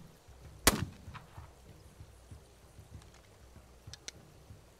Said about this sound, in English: Why am I firing rubber bullets?